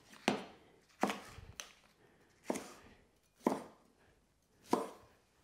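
Knife finely slicing spring onion on a board for a vegan chow mein garnish: five or six crisp, separate chops at an uneven, unhurried rhythm, close and clear, with no talking.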